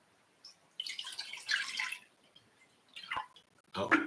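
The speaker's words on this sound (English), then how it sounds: "And we're going to pour the water" Fresh water poured into a pot for making Arabic coffee, heard as bursts of splashing and trickling separated by short pauses, fairly close and moderately loud.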